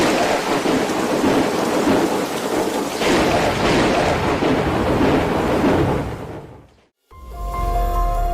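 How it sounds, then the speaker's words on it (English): A sudden hailstorm with large hailstones pelts down in Guangdong, China, a dense, loud, continuous roar of impacts that cuts out abruptly near the end, then resumes as a heavy low rumble. "Unusual hailstorms struck Guangdong, China, with massive hailstones up to 5 centimeters in size, falling suddenly and catching residents completely off guard."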